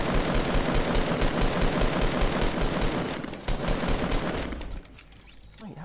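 Rapid automatic gunfire in the video game Fortnite, a loud continuous rattle of shots for several seconds that thins out and fades toward the end.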